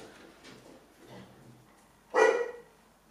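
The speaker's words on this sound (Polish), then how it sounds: "ktoś chyba przyszedł, bo szczeka bardzo" A dog barks indoors at someone arriving: one loud, fairly close burst near the end, after a stretch of quiet background.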